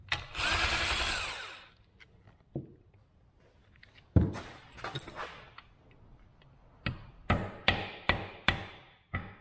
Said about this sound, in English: I'm gonna take these side cover bolts out now